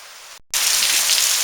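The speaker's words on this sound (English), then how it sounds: "Got a pretty good rain squall going right now." Heavy rain from a squall in Hurricane Irma in Stuart, Florida, a loud dense hiss that cuts out briefly and then returns as a steady roar.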